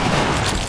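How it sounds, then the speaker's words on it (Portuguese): A shotgun blast in the video game The Last of Us, a single loud, dense boom that fills the short moment with a broad roar and no voices over it. "É bom um tiro de shotgun?"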